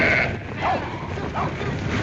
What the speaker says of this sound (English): get them sheep moving